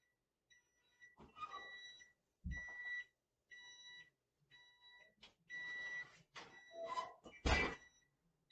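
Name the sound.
kitchen buzzer going off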